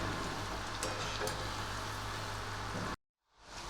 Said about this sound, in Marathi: आपली भेंडी मस्त तळून झालेली आहे तुम्हाला आवाज येत असेल तर बघा